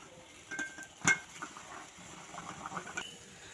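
A metal plate set onto a bowl over boiling water in a kadai gives one sharp clink, followed by faint light clatter in a quiet kitchen.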